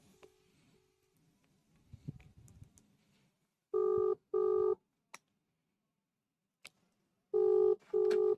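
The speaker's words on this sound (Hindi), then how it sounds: "आई थिंक शायद नहीं है, रिंगिंग आ रहा है।" A phone call rings out: two pairs of short, loud ringback tone bursts, separated by a quiet gap, with faint shuffling and handling noise before the first pair.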